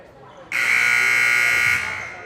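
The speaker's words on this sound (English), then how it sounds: "buzzer to sound, I believe." A loud electronic buzzer blares for about a second and a half at a boys' varsity volleyball match, then fades, over faint gym crowd noise.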